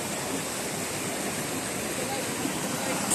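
Kawa Falls at Tausuvan, Magpet, north of Cotabato, pours as a steady, full rushing roar of falling water, unbroken and close throughout.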